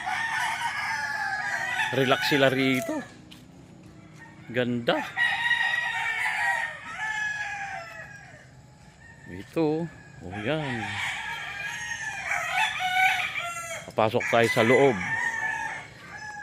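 Several roosters at a chicken farm in Guerrero, Bauang, La Union crow repeatedly, some near and loud, others farther off, with clucking throughout and someone talking intermittently over the birds.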